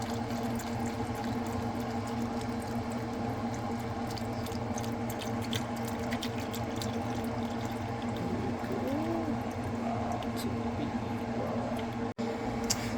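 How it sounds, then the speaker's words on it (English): Beef broth poured steadily into the bottom of a slow cooker, a continuous soft splashing and gurgling stream of liquid that lasts throughout, close and moderately loud, ending with a brief knock. "now go ahead and pour in your beef broth. We're just going to go ahead and pour that in the bottom and let that fill up"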